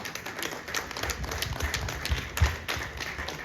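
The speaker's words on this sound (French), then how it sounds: "Veuillez applaudir cette action." Scattered audience applause at an evening awards gala in Paris, a light, uneven patter of hand claps filling the room at moderate distance, with a few sharper individual claps standing out.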